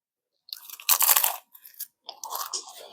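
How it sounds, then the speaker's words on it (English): Crunchy frozen Indian flatbread chewed close to the mouth, a few loud crisp crunching bites separated by short silences, with a final run of smaller crackles. "that crunch from the flatbread is undeniably epic"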